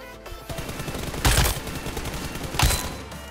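Gunfire in the mobile shooter BGMI, with two sharp, loud bursts standing out above a steady backdrop of game sound, spaced about a second apart.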